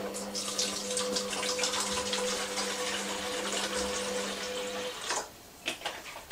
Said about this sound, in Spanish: voy a ponerle mucha agua